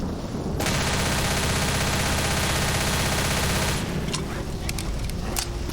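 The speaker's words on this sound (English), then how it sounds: "and that is when I shoot." Sustained, very loud rapid gunfire from a player shooting in a video game roars for about three seconds, then breaks into a few scattered single shots against a dense, blaring background.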